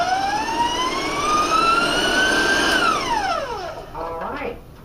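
A stand mixer with a paddle whirs through applesauce cupcake batter, its motor whine rising steadily in pitch, then winding down sharply toward the end.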